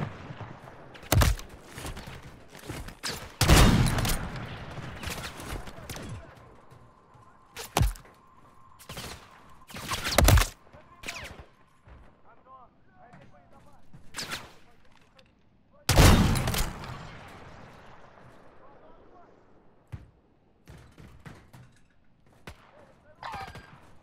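Shotgun blasts from a duck hunt ring out in sharp, loud bursts spaced several seconds apart, each followed by a rolling echo, with people talking in between.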